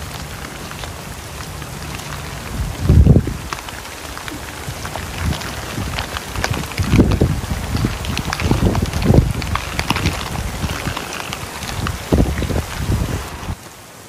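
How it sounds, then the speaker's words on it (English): Steady heavy rain patters and hisses throughout at a stable with rainwater guttering, with occasional louder thuds and splashes close by. "It's just been raining non-stop"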